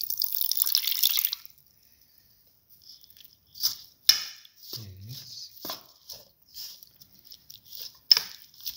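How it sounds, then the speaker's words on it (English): Water poured from a container into an okra and chickpea fritter batter, a short splashy pour followed by scattered drips and small clinks, close and fairly quiet, with no talk. "Put in water a little bit."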